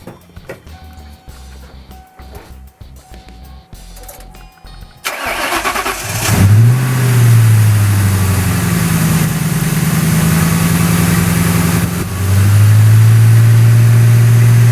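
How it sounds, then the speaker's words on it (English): A 1996 Ford Mustang GT V8 with fresh spark plugs and wires cold-starts after a quiet stretch, cranking briefly then catching into a loud, steady idle with a rev swell midway and another climb near the end. "we're gonna start it up and see how she runs now"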